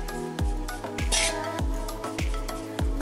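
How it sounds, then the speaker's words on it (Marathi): A roasted chana dal ladoo mixture is stirred with ghee in a pan after the gas is turned off, with a regular series of close metallic scrapes and clinks of spoon against pan, about two per second, with faint sizzle. "गॅस बंद केल्यानंतर हे असं छान असं मिक्स करून घ्यायचंय."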